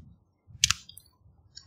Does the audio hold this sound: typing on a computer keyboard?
yes